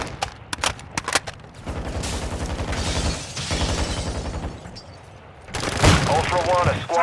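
Gunfire in Call of Duty Modern Warfare II: rapid automatic bursts and loud shots, with a radio voice talking in between.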